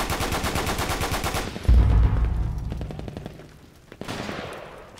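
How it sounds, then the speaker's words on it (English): Machine gun suppressive fire in the Darkest Hour game on the Remagen map: a rapid burst, then a heavy thump that fades, and a further burst of shots. "We need suppressive fire"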